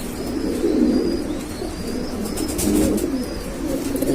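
Pigeons cooing steadily in a loft of domestic breeds, soft low rolling coos repeating close by, with faint chirps above and no talk.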